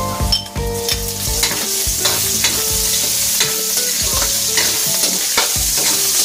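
Hot oil splatters and sizzles loudly while Ilocano miki noodles fry, with a busy crackle and repeated stirring scrapes and clatters up close, no voices.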